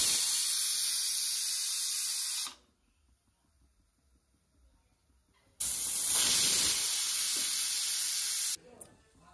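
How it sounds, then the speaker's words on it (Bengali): A pressure cooker cooking dalia releases steam in two long, loud hissing bursts of a few seconds each, separated by near silence, with a brief third hiss starting at the end. "এদিকে প্রেশার কুকারে হচ্ছে"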